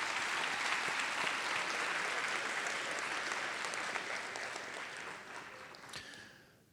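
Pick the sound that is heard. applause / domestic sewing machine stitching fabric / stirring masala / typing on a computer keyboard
applause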